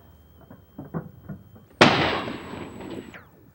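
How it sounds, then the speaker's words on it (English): A single loud shotgun blast at a clay pigeon trap shoot, a sharp close report followed by a fading rumble, after a few soft thumps and rustles. "The clay pigeon flies from the trap and sails on the wind as the shooter mounts the gun, tries to break the target."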